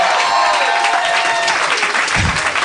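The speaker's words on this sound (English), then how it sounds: "Everybody clap." An audience claps together at a live comedy podcast taping, a dense, steady burst of applause close and loud throughout, with a few crowd voices mixed in.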